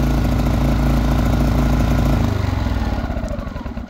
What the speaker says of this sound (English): Let me shut this off.